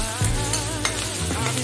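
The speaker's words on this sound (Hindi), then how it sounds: "अब हम इसमें डालेंगे हरी मिर्ची और हम डालेंगे प्याज। अब हम इनको भूनेंगे।" Green chillies and onion fry in a pan for a potato sandwich filling, giving a steady close sizzle with light stirring scrapes and a brief clatter near the start.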